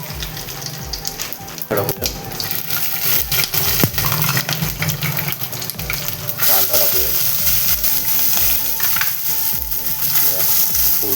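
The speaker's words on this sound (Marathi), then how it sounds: "पहिला कांदा टाकलेला आहे" Sliced onion frying in hot oil as the base for a Konkani-style mutton curry, a loud continuous sizzle with clattering pan and utensil noises throughout, and a voice talking over it at times.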